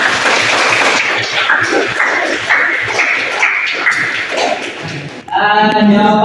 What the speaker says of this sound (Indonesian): Oke, boleh tepuk tangan untuk semuanya.